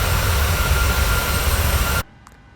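A PMDG Boeing 737 jet engine in Microsoft Flight Simulator, heard from outside the aircraft on approach: a loud, steady broadband roar for about two seconds that cuts off abruptly to near silence.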